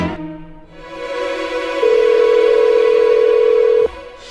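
A phone call's ringing tone sounds as one steady, fairly loud electronic tone lasting about two seconds, then cuts off abruptly, after a quieter stretch of room sound with no voices.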